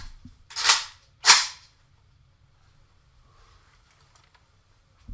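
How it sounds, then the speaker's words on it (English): The action of a WASR-10 rifle chambering a dummy round: two sharp metallic clacks in quick succession, close and fairly loud, then near silence. "I will also test the head spacing out. Like, I'm just going to demonstrate that it doesn't matter. The head spacing is too tight or whatnot, because this will still chamber"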